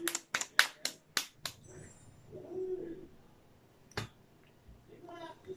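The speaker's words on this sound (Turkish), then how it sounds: "Alkış." Several quick hand claps ring out in a short burst, followed by quiet voices and a single later clap.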